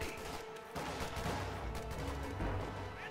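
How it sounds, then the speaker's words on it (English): Dense bursts of gunfire and explosions in a WWII strategy video game, a loud continuous battle din with overlapping shots and heavier booms throughout. "Who the hell is firing?"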